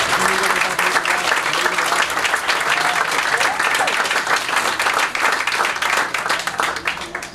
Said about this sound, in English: How about a nice round of applause for this guy?